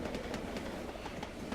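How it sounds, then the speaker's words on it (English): A Black 5 steam train crosses a bridge on the Hamilton branch line, heard from a distance as a quiet rolling rumble with faint rhythmic wheel clicks repeating several times. "The train's on another bridge, completely different bridge, built at a completely different time."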